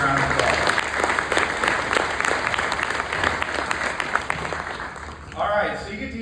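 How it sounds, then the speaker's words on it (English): An audience at a Coaches vs Cancer event in New York City applauds itself in a long, dense burst of clapping that holds steady for about five seconds, then thins as a voice begins near the end. "So please, give yourself a big round of applause"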